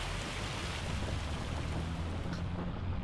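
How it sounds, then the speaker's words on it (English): Hail pelts down in Farming Simulator 25 as a steady, dense, even patter that fills the scene from start to finish with no talking. "it's raining hail right now"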